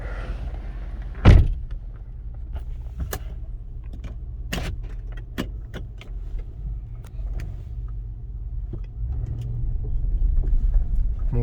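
A 1999 Cadillac DeVille Eagle Crown hearse with a Northstar engine rolls along under its own power, a steady low engine hum with a sharp thump early on and scattered small clicks and knocks, no talk.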